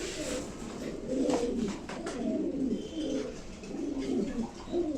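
Pigeons at a pigeon farm coo continuously in soft, rolling, throaty calls from several birds close by, with faint chirps and quiet activity underneath.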